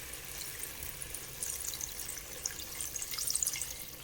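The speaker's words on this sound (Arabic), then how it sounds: "وكنجي كنسقي كيف ما قلت لكم بالماء سخون." Hot water is poured over tripe, giving a faint, steady splashing trickle that swells slightly toward the end.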